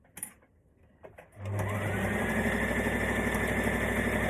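A sewing machine stitches fabric for a maxi skirt: after a few quiet handling clicks, the motor starts and runs with a steady, close, continuous whirring hum, with no talk.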